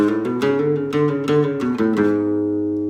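A nylon-string flamenco guitar plays a short, rapid falseta run of plucked notes with pull-offs and sharp attacks, ending on beat 10 on a ringing chord that fades out.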